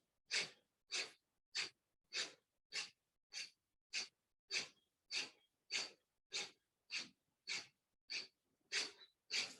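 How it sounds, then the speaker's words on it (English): Breath of fire, a rapid yoga breathing exercise: a close, quiet run of about sixteen sharp, forceful nasal exhalations in a fast, even rhythm, with no talking. "we're going to start doing this breath of fire"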